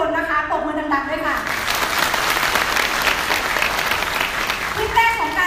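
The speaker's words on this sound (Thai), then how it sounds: "ขอให้ทุกท่านได้ทุกคนนะคะปรบมือดังๆด้วยค่ะ" A crowd at a Giffarine sales meeting applauds loudly, a dense, sustained burst of clapping, with a voice speaking just before and as it fades.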